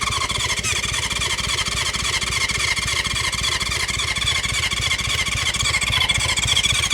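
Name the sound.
1970s four-cylinder motorcycle electric start, engine trying to start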